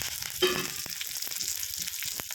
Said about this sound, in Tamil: கடுகு உளுந்து பருப்பு போட்டுக்கலாம். கடுகு பொரிஞ்சதும் கறிவேப்பிலையும் 2 ரெட் சில்லியும் போட்டுக்கலாம்.